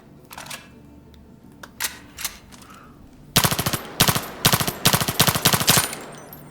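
An integrally suppressed rifle in the video game Zero Caliber fires a quick string of muted, clipped shots in tight bursts, close and fairly loud, after a few scattered handling clicks.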